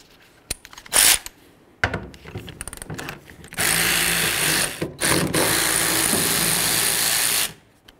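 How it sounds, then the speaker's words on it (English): A ratchet removes the tailgate mounting bolts on a 1994-2004 Chevy S-10: a few sharp clicks and short bursts, then two long, loud, close whirring runs that stop abruptly. "Then we're going to remove our three mounting bolts."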